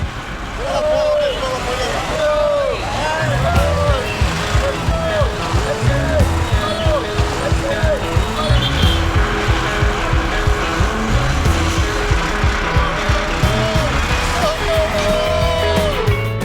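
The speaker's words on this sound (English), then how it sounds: "We've just got a tuk-tuk and we're going to go as far as we can in this bad boy." A tuk-tuk ride in India, a close rattling engine drone with road rumble and traffic noise all the way through, passing horns and honks, and people talking over it.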